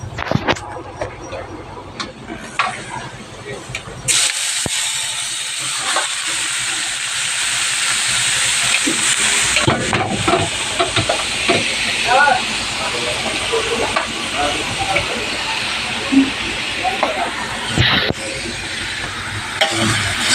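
Ground pork with garlic fries in a pan, giving a loud, continuous hissing sizzle after a quieter start, with occasional clatters and scrapes of a utensil, close up.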